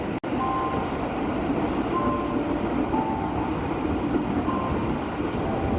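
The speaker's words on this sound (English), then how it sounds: "We are speeding up now, slowly moving towards the first station of the trip, Kranji" Commuter train gathering speed on newly built double track near Bekasi, heard from inside as a steady, loud rumble of wheels and carriage noise with faint hum tones and a single sharp knock near the start.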